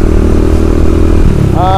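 A Bajaj Dominar 400 motorcycle engine rumbles loudly at close range, a steady throbbing drone that shifts near the end as a higher tone cuts in.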